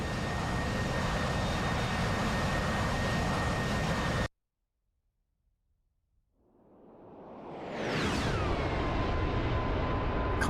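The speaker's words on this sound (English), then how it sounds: "it is the mighty and awesome Harrier" Harrier jet in a flight simulator game, a steady jet engine roar that cuts to silence, then swells back with a rising whoosh and a falling whine as the aircraft passes.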